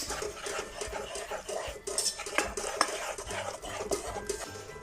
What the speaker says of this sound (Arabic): سأضيف 40 غرام من الدقيق وأواصل الخلط